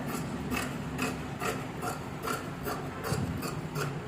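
Pillow cover fabric being cut in a tailoring setting, heard as a quiet, steady run of short crisp snipping strokes, roughly two or three per second, close by and with no talk.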